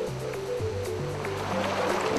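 Water rushes steadily through a river water intake channel with a gate regulating the flow, a constant broadband wash under faint sustained musical tones.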